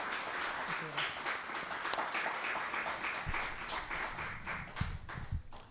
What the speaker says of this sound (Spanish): les pido le cedan un fuerte aplauso para recibirlo en este primer ciclo de conferencias